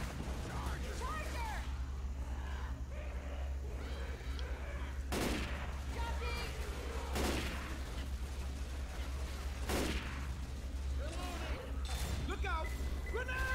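Video game gunfire, several sharp loud shot bursts spaced a couple of seconds apart over a constant low rumble, with people talking throughout.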